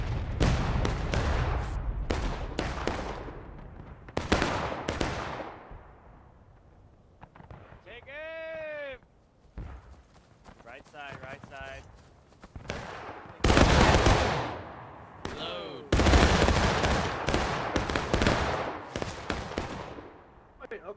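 Musket and rifle fire in the Civil War video game War of Rights, scattered loud shots and distant volleys interrupted by pauses, with players talking over the battle.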